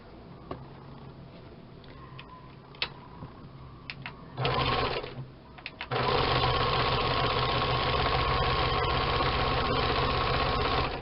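Electric sewing machine stitching one side seam of a fabric gift pouch, starting with short bursts then running steadily and loudly for several seconds, close up with no talk.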